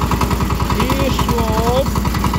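A cheap tractor engine chugs with a loud, steady rhythmic throb as it drives out and turns on the spot. A voice talks briefly over it.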